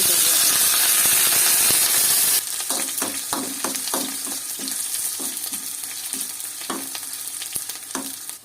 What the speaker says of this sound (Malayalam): വെളിച്ചെണ്ണ ഒഴിച്ച് കടുകിട്ട്